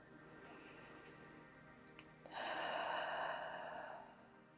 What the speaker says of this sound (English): a deep cleansing breath in through the nose, out of the mouth